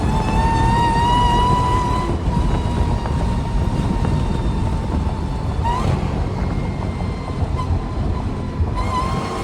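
A Dodge Hellcat roars at speed while drifting sideways at almost 70 on a dry road, giving a loud sustained engine drone with a steady whine and rushing road noise, heard from inside the car.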